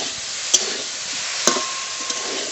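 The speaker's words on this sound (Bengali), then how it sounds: "এবার ফুলকপি খুব ভালো করে ভেজে নেব" Cauliflower frying in a pan gives a soft, steady sizzle with a few sharp clicks of a utensil against the pan.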